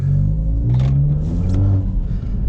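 A tuned 220 hp BMW 1 Series drives on a snowy road, its engine a close, steady rumble with revs rising and falling between gear changes.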